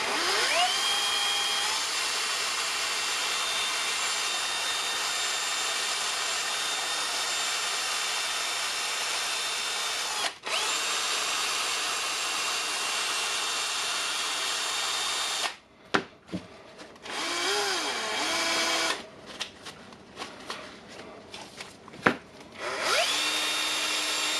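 A drill fitted with a wire wheel brush spins steadily with a bright whirring hiss for about fifteen seconds, then cuts off and restarts in short, uneven bursts, cleaning parts of a Makita oscillating multi-tool.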